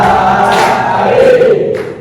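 Students in a classroom shout a spirited group cheer chant together, a loud unified burst of voices lasting a couple of seconds.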